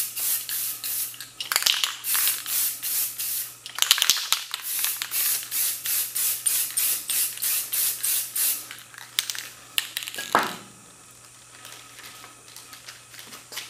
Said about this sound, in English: And I'm going to spray the Rust-Oleum.